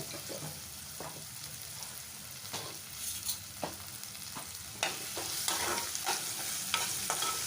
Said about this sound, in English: I finally sliced 1 medium-sized onion. I'll stir that very well.